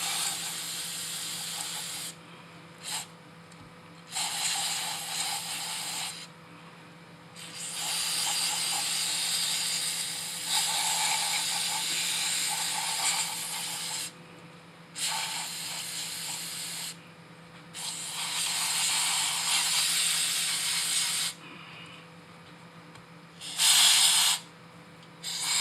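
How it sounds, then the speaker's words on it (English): Repeated bursts of cleaner spray hissing from a nozzle onto car parts during a CV axle boot repair, several short and long blasts separated by brief pauses, close and steady. "we're just going to kind of spray all this down"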